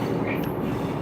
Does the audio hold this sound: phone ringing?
no